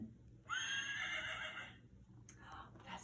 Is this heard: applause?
no